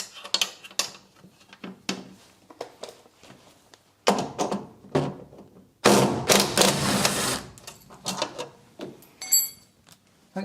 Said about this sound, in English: Thank God for nut guns.